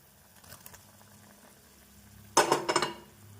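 Okra dropped into boiling kuzhambu in a pot, a brief close burst of splashing and bubbling after a quiet simmer with a few faint clinks.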